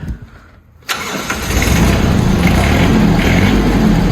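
A Yanmar EF 122 tractor engine cranks after a quiet moment, catches abruptly and settles into a loud, steady diesel idle close by.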